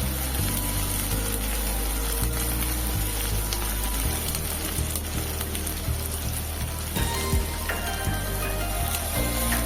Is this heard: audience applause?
no